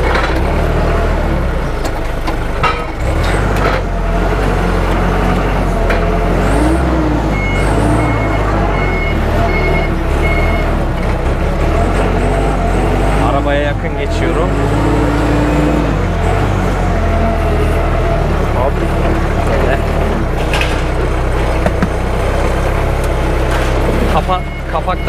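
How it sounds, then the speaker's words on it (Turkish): A forklift drives past parked cars, its loud engine droning continuously up close, with occasional beeps and someone talking over it. "Arkadaşlar, forklift kullanmak kolay."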